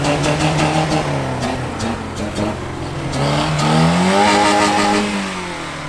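A BMW E30 engine revs in a workshop, the pitch climbing and falling in loud, close swells with a brief lull between bursts.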